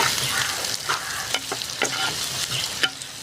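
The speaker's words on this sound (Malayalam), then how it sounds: "ചുവന്നുള്ളി ഒന്ന് നമുക്ക് വഴറ്റിയെടുക്കണം കേട്ടോ" Shallots sauté in a pan with a soft, steady sizzle, broken by repeated close scrapes and stirs of a spoon, and no talking.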